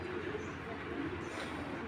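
Soft, low coos from Giribaz pigeons murmur quietly against a faint background hum, brief and fairly close.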